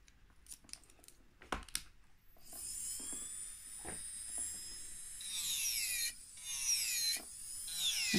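An electric nail drill with a Swarovski crystal-tipped shaping bit files a nail. A few soft clicks come first, then a steady, close, high-pitched whine runs to the end, rising and dipping in pitch as the bit works.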